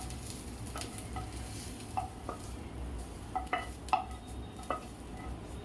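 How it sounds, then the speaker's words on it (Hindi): Soft sizzling of hot spice tempering poured into urad dal kadhi, with occasional light clinks of a utensil against a pot, quiet and close, no voices. "उसमें मैं अब कढ़ी में तड़का लगाऊंगी।"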